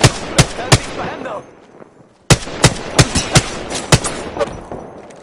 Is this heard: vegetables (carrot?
no